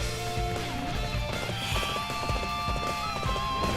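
Galloping horse hooves from Dynasty Warriors 8 Xtreme Legends, a steady rapid clip-clop running throughout with game music and effects layered over it.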